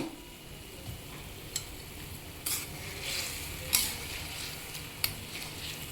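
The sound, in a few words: tamarind broth with chillies and curry leaves cooking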